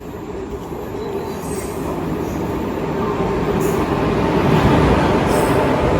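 A train rolls through a railway station with a steady, loud rumble of wheels on rail that builds slightly, and faint metallic squeal rises above the noise. No one speaks.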